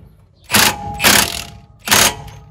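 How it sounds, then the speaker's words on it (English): An impact wrench fires three short bursts while tightening the axle nut on a Dodge Ram 1500 front hub, each buzzing rattle lasting about a quarter second with brief pauses between, loud and close-up with no talking. "And get the impact on."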